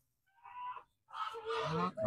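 A goose on a small home-scale farm honks twice up close: a short call, a brief pause, then a longer, louder nasal honk.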